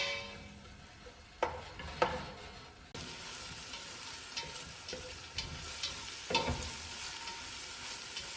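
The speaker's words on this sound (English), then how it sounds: "We've got some oil we're putting into our saucepan. And we're going to add the onion, carrots and celery." Onion, carrots and celery fry in oil in a saucepan, a steady close sizzle with sharp crackles and the scrape of stirring now and then.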